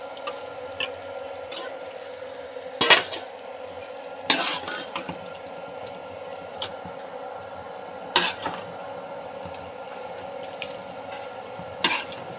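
Utensils clink and tap against a bowl as thick jackfruit biryani gravy, with oil separating from it, is transferred. A handful of sharp, spaced knocks sound over a soft, continuous kitchen background.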